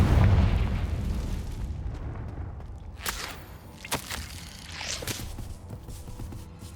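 A Confringo explosion spell in the video game Hogwarts Legacy opens with a deep booming blast that fades out, followed by a few sharper impact thuds and pops.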